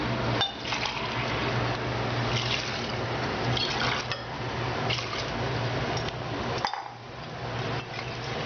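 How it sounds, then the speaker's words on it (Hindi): Water pours steadily into a metal pressure cooker holding rice for several seconds, a continuous splashing rush with an occasional light clink of metal. "इसमें हम 2 गिलास चावल लिए हैं, 4 गिलास पानी डालेंगे।"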